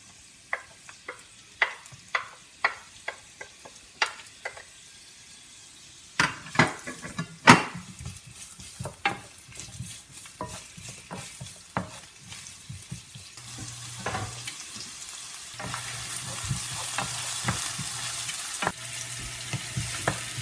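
Onions and garlic frying in a little oil in a pan, with a steady close sizzle and repeated sharp scrapes and knocks of stirring, the sizzle rising louder in the second half.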